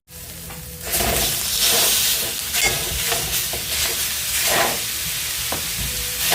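Moose burger meat, harvested in northern New Brunswick, hits a hot pot of onion and carrot soup with a loud, close, steady sizzle and hiss that starts abruptly and continues throughout, with faint stirring scrapes.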